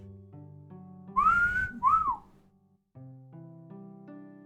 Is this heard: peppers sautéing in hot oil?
no